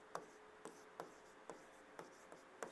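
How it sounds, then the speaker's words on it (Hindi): Pen or pencil writing a math formula by hand, with faint, evenly spaced scratchy strokes roughly every half second, close and quiet. "तो चलिए लिखते हैं सूत्र"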